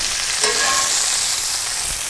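Chicken sears in a pan with a loud, dense, continuous sizzle that holds steady throughout, with no voices over it.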